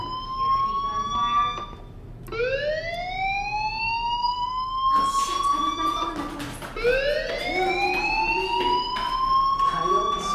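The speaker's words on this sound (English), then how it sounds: "Hey, do you hear that fire alarm? That means you should be outside." A fire alarm in the video game Life is Strange, repeated rising electronic whoops sweeping upward, loud and insistent, several cycles in a row with brief breaks between them.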